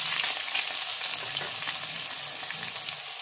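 Chopped onions fry in hot oil in a pan, giving a continuous bright sizzle with faint stirring scrapes, close and moderately loud, with no voices.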